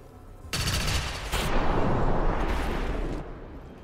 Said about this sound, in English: Plenty of explosions from Outrider here.